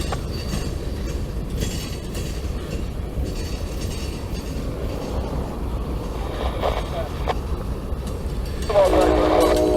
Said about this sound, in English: see this train come on around. He's actually headed southbound